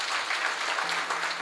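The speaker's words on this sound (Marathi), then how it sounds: "काय योग्य टाळ्या वाजा ऐकलं." A kirtan audience claps together in a steady, dense burst of applause, close and continuous for the whole moment with no speech over it.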